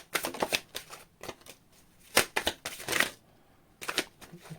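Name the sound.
shuffling a deck of tarot cards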